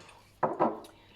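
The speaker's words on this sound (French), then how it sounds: "Ce que vous entendez, c'est mon évier, ne vous inquiétez pas." Dishes knock and rub briefly in a kitchen sink while a dishwasher runs nearby, two short clattering bursts close by over faint background hum.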